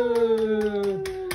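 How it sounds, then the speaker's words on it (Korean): Family members clap their hands after a child's 500-day birthday candles are blown out, a few uneven claps sounding over a sustained sung or cheering voice close by. "셋. 와, 박수."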